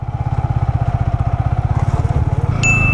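A Yamaha R15 motorcycle rides off-road on trails, its engine thumping in a rapid, steady pulse close by and revving up briefly at the end, loud and with no talk over it.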